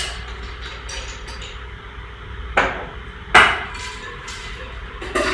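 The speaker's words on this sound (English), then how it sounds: "we're going to hit that with some fresh ice" Fresh ice dropped into a tall Collins glass while a cocktail is built: three sharp, brittle clinks spaced a second or two apart over a quiet room, with no talking.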